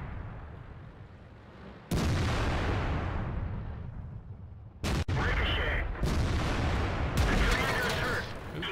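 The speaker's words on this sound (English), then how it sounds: "I was kind of expecting to be shot at by Artie since I was the first one lit, but kind of sucked that he hit me direct" An artillery shell slams into a tier 10 tank in World of Tanks, with a heavy booming impact followed by a series of loud blasts and crackling bursts over a rumbling battlefield background.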